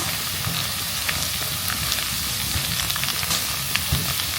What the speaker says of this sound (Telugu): ఇప్పుడు బాగా ఫ్రై చేస్తున్నాను